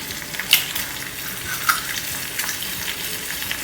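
Three eggs fry in a pan over heat for cheesy eggs. A continuous close sizzle crackles with small pops and spits and carries on steadily, with no voices over it.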